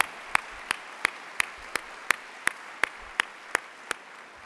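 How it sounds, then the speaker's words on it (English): Convocation audience applauding faculty and staff award winners: crisp, evenly spaced claps ring out at a steady beat over a faint hall background, sounding sparse rather than a full crowd. "Let's give all of our faculty and staff award winners another big round of applause"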